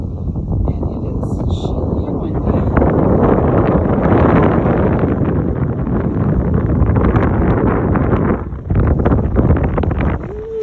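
Loud, blustery wind buffeting the microphone continuously on the Appalachian Trail near Woody Gap, Georgia, with a brief lull near the end before gusting again.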